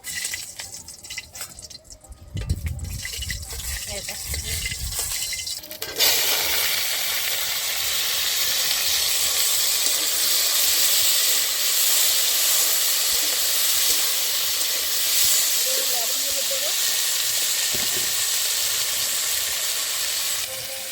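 Dried red chillies dropped into hot oil for frying potatoes, bursting into a sudden loud, continuous hissing sizzle that holds steady and close, after a few seconds of clattering handling.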